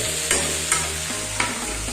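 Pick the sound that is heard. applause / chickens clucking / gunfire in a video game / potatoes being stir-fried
potatoes being stir-fried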